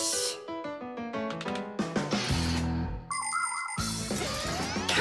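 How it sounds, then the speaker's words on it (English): A bright electronic ringtone melody of chiming, bell-like notes plays continuously and loudly, with shifting tones and sparkling high accents. "Come and check out our Fixie ringtone."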